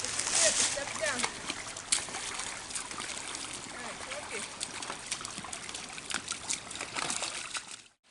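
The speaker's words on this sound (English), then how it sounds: "Little waterfall." A small woodland waterfall trickles steadily outdoors, a soft continuous wash of running water heard at close range, with a few brief splashes and people speaking quietly in the background.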